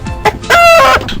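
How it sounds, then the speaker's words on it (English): A chicken in an RPG Maker video game gives a couple of short clucks and then a loud, drawn-out crowing call, all close and alone with no talk. "Chicken?"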